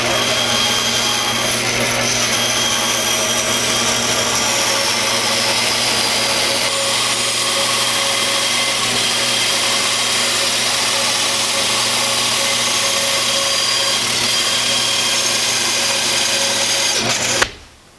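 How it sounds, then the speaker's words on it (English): A bandsaw cuts out a hickory recurve bow blank in a workshop, running as a loud, steady whirring drone with a constant hum for about seventeen seconds before stopping abruptly at the end. "So for time purposes, I'm just going to cut this out on the bandsaw."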